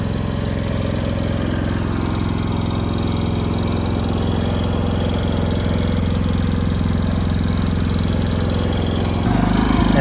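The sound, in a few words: Predator 5000 portable generator running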